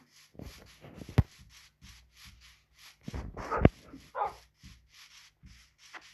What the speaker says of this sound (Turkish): Hadi gelin köpeklerim onları yenmeliyiz.